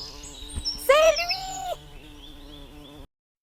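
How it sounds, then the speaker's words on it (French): A bird passing high overhead sings a bright, brief phrase of warbling notes, loudest for under a second near the middle, over a faint steady background. "Un oiseau passe très haut et chante joyeusement."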